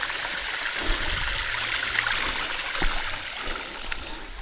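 A low-flowing stream trickles steadily at Hin Lat waterfall on Ko Samui, a soft continuous wash of water close by, with a few faint knocks and no talk.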